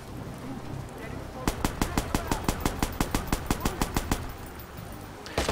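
Rapid gunfire in the video game Watch Dogs, a fast even string of about twenty shots lasting nearly three seconds, loud and close over low background noise.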